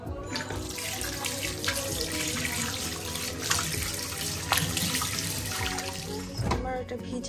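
Tap water runs steadily into a sink to soak an item, a continuous close splashing hiss with faint kitchen clatter and someone speaking briefly over it.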